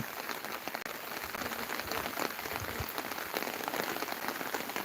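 Heavy rain pattering densely on a nearby surface at Hill View Park, Cheruthoni, Idukki, a loud continuous drumming of drops with no talking.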